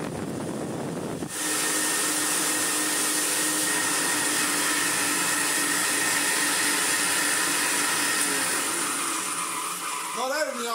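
A restored Hoover Senior 652a upright vacuum cleaner with tools switches on and runs with a loud, steady roaring whine, continuous and close up after a brief quieter moment.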